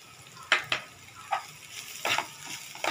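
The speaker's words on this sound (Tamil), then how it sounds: "தேங்காய் துருவலை போட்டு கிளறிட்டு இறக்க போகிறோம்." Grated coconut stirred into a frying pan for a beetroot carrot chutney, a spoon scraping in several short, distinct strokes over a faint, steady sizzle, close by with no voices.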